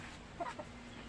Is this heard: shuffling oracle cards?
no